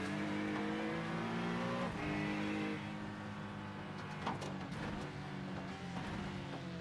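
A race car engine in the iRacing sim at Bathurst sounds loud and close as a pursuing car comes up from behind, a steady droning roar with shifting pitch and a brief rasp near the end.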